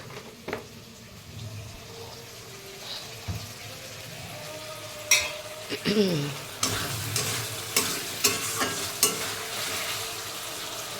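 Potatoes, onion and ginger frying in oil, stirred with a utensil over a low, steady sizzle, with scattered scraping clacks that grow busier toward the end, with no talking.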